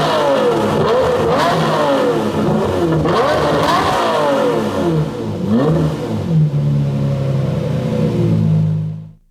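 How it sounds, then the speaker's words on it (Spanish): A Lamborghini Murciélago Roadster V12 revs hard through its central dual exhaust, loud and close, with repeated rising and falling sweeps before settling into a steady idle that cuts off abruptly. "también tiene un escape doble central y suena fantástico y muy alto"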